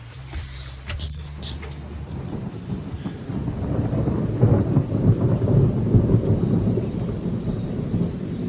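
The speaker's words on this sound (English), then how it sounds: "just wait for the thunder." Thunder from a windy storm about four miles away, a long rolling rumble that swells and stays loud over steady rain.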